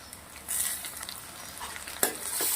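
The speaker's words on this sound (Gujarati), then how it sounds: "આપણે અંદર ટામેટાં નાખી દેવાના છે." Chopped tomatoes drop into sautéed onions frying in hot oil, bringing a soft sizzle with stirring scrapes and a sharper crackle near the end, close and moderately loud with no voices.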